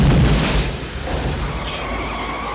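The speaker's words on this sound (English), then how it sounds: "Look at these explosions." Explosions from the 1994 action film Clear and Present Danger, a loud, dense rumbling boom that starts strong and settles into a sustained roar for a couple of seconds.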